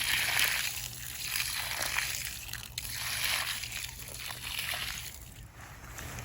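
Water mixed with Miracle Grow Quick Start solution is poured around a newly transplanted tropical fruit tree outdoors. It makes a steady, close sloshing and splashing sound that swells and fades in waves, with no talk.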